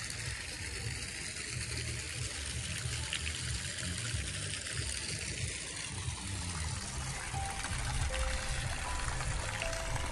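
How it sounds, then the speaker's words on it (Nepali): Water flowing steadily outdoors at a stream where fish had died after ice, a continuous even rushing and trickling wash heard close with no voices. "पानी"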